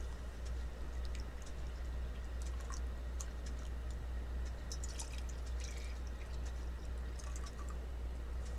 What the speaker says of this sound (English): let's get some water in these glasses